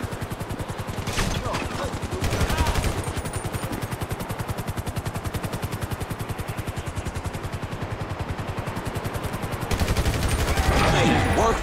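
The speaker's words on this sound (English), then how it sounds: "Who is shooting at me?" Sustained automatic gunfire in Grand Theft Auto 5 during a firefight, a loud, dense, continuous rattle of shots that barely lets up, with heavier bursts near the end.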